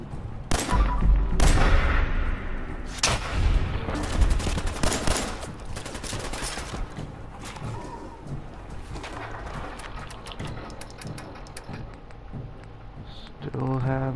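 Gunfire from the video game Fallout 4, loud rapid shots and bursts crowding the opening seconds and then thinning into scattered reports, heard alongside keyboard clicking and a player talking.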